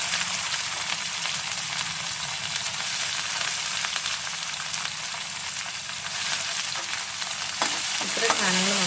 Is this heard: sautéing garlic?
yes